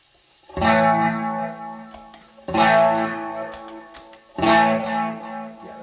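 An electric guitar through a B.K. Butler Tube Driver or Colorsound Power Boost pedal at 18V strums three loud, slightly overdriven chords, each left to ring and decay, with light muted scratches between them.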